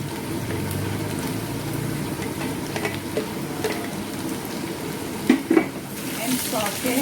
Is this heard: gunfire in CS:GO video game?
no